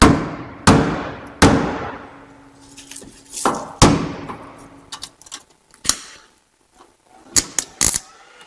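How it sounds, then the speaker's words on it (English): Hammer knocking twisted sheet metal into place during body repair on a 1957 Chevy, sharp ringing strikes spaced unevenly, some with metallic decay, followed by quicker clustered taps and clunks. "So now, there's my hammer."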